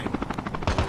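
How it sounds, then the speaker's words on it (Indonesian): Helicopter in the video game Call of Duty Mobile, a brief close rotor chop with rapid pulsing beats, loud and alone, swelling louder at the end. "Oh, sampai tiga helikopter."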